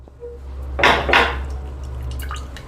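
Lemon juice squeezed from a lemon into water blended with coriander, mint, green chilli and pepper, heard as two short splashy drips close by, over a low steady hum.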